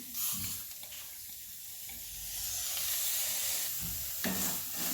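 Sprouted moth beans roast in a hot kadhai with a little oil, giving a soft, continuous sizzle with occasional scraping stirs, fairly quiet and without speech.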